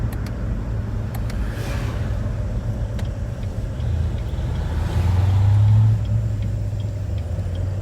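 A Corvette C7 Z06 with the Z07 package cruises along, its engine a steady low rumble with road noise from inside the cabin, swelling briefly into a deeper drone as it pulls harder.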